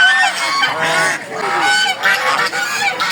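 Geese honk repeatedly and loudly at a poultry market in Fatullah, several overlapping nasal calls close by in quick, uneven bursts.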